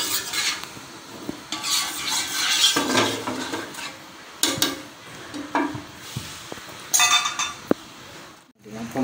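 A spatula scrapes and stirs oil across a hot frying pan while making martabak telor with lumpia wrappers and sausage, giving close, busy scraping and clinking over a steady sizzle, with a few louder metallic knocks and brief voices in the background.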